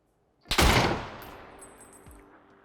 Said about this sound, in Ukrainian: Звук класний у драгунова насправді.